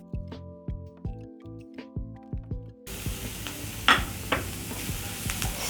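Onions and garlic frying in a pan while being stirred, first a series of light spoon taps and scrapes, then a steady sizzling hiss with further stirring clinks, close and fairly quiet.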